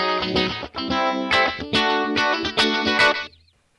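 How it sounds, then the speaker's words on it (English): Electric guitar played through a distortion effects pedal in an outlaw country style, a short run of gritty, sustained notes and chords in quick succession, loud and close, ending abruptly. "A lot of country music people did carry on with that distortion pedal."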